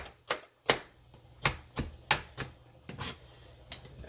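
A knife dices food on a cutting board for a potato casserole, with about eight sharp, close chops at an uneven pace and quiet gaps between them.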